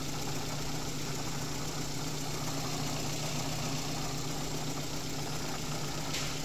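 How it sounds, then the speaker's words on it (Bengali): A car engine idles after a knock sensor repair, a steady low hum with a faint even vibration and only slight residual ticking, holding level and unbroken. "এখন ইঞ্জিনটা একদমই স্মুথ"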